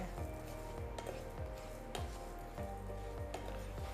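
Coriander seeds, cumin and black pepper are dry-roasted over low heat in a pan, with a soft sizzle and repeated scraping and stirring strokes of a spoon against the metal at close range.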